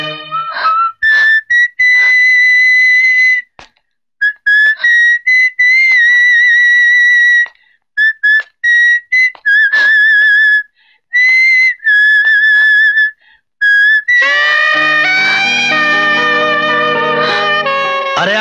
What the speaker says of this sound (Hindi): इतनी सीटी बजाया समझ में नहीं आ?